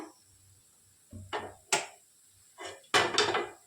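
Cooked rava vadas are moved onto a plate with a string of close, uneven clatters and knocks of dishes and utensils, separated by short quiet gaps, with no voices.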